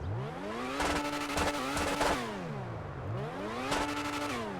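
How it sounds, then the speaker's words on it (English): A high-pitched F1-style race car engine in GTA 5 Online screams as it revs up and down through the gears, rising and falling in repeated sweeps, loud and close with no talk. "it's an unmistakable, you know, awesome sounding F1 type of car"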